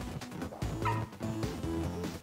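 A dog sound in the video game Five Nights at Freddy's: Into the Pit, with short whimpers and yips set over a busy, layered game soundtrack. The dog sounds stay fairly faint and come in brief bursts.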